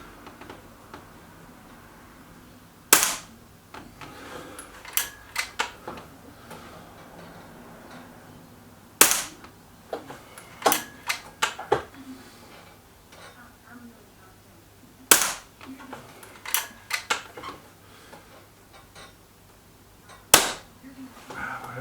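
Several sharp, isolated shots from a Weihrauch HW100 KT air rifle, loud and close, spaced irregularly several seconds apart with faint pellet-impact ticks and light handling noise between them.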